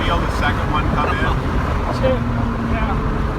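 A Porsche 959 pulls hard with its second turbo coming in, a loud, steady engine roar heard from inside the car amid wind rush, with no clear rise marking the boost.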